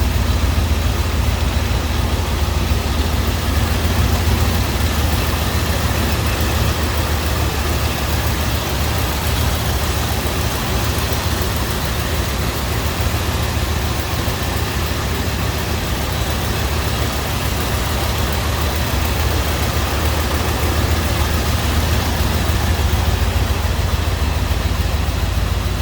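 1979 Ford Bronco four-wheel-drive wagon with a 351 V8 sitting at idle: a steady, continuous low rumble with broad hiss, unchanging for nearly half a minute, close and fairly loud, with no speech.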